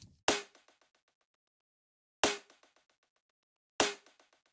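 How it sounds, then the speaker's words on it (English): Three separate hits of a layered snare and rim, with the snare pitched up an octave. Each is a sharp, bright crack followed by a short rattling echo tail, spaced irregularly and heard alone. "I'm layering the original snare and the rim, but this snare is up the octave."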